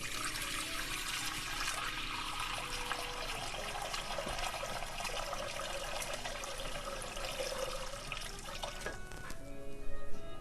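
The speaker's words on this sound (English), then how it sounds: "I'm gonna fill up the pan with some water." Running water pours steadily into a pan, a continuous rushing splash that shifts in tone as it fills, ending with a brief louder clatter.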